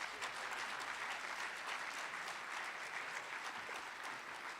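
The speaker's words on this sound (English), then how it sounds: "let's give our Mr. President a round of applause so he can come and join us" Sustained applause from an audience at a conference closing session, welcoming the President to the stage; dense, steady clapping at even loudness throughout, with no speech over it.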